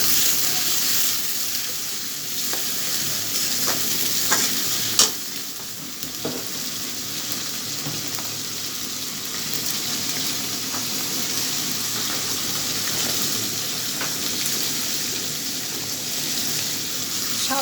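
Prawns sizzle steadily in a hot frying pan as they are stirred and sautéed for a Bengali prawn curry with cucumber, a continuous close crackle with a few sharper clicks of the spoon against the pan.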